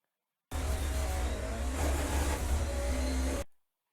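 A racing car in Assetto Corsa on the Hakone Nanamagari mountain road, engine droning steadily at full throttle for about three seconds before cutting off abruptly, with no talk.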